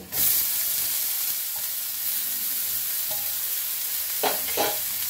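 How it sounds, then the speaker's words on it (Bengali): Onions frying in a pan give a steady, close sizzle, then banana stem goes in with a few stirring scrapes near the end. "এবারে পেঁয়াজটা ভাজা হয়ে এসছে বেশ, থোড়টা এবারে দিয়ে দেব।"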